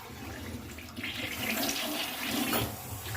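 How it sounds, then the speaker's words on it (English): A toilet flushes just after being unclogged, with a steady rush of swirling water running for a few seconds, close and fairly loud. "And then you're gonna flush it."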